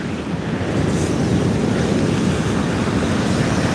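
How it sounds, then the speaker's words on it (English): Noisy sea waves wash onto the shore at night in a steady, loud, broadband roar with wind buffeting the microphone throughout, no voices. "That is seriously noisy, that sea tonight."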